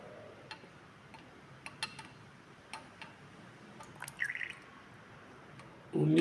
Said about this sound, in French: je vais remplir la burette avec la solution de DTA